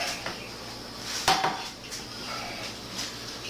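Shepherd's pie filling being spread across the bottom of a pan, giving soft scraping and clinking of a utensil against the pan, with one sharper knock near the middle and a steady low room hiss underneath.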